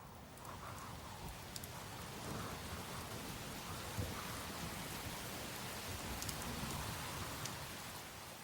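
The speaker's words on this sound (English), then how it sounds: "It rains nearly all the time up here" Heavy rain pours steadily on mountain tops above a rainforest, a dense continuous hiss with faint low rumbling underneath, unbroken throughout.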